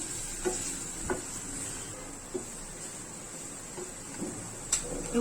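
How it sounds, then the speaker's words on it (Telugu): Sliced onion and curry leaves frying in hot oil: a soft continuous sizzle with a few stirring scrapes and taps, close by and moderately quiet, no talk. "ఆయిల్ వేడెక్కాక ఒక పెద్ద ఉల్లిపాయ తరుకు అలాగే కరివేపాకు వేసి వేయించుకుందాము"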